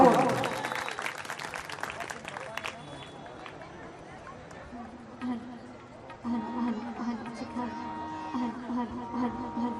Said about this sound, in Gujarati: એકવાર જોરદાર તાળીના ગણતરી આપણે તમન્નાબેન ઠાકોરને વધાવો